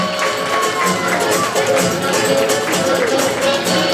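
Audience applause fills a hall at a school award ceremony for a fabric design and modelling contest, a steady, loud wash of clapping with crowd noise throughout.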